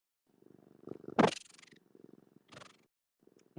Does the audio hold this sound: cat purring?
yes